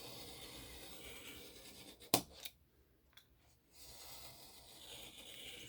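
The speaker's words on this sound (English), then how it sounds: "don't think you've got to cut through that chipboard in one swipe" A blade drawn through chipboard gives a soft, steady scraping rasp, broken by a sharp snick and a short pause before the quieter cutting resumes.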